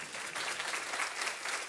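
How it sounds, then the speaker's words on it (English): Audience applauding at a tech talk on building safer technology for women, a dense, steady patter of many hands clapping throughout, fairly close and unbroken, with no speech over it. "please give a huge round of applause for all the speakers today"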